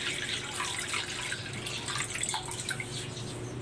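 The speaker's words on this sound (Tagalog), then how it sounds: "Maglalagay na ako ng tubig dito sa kawali." Water pours into a frying pan on a stove, a continuous splashing trickle with bright spattering and droplet sounds, heard up close for a few seconds.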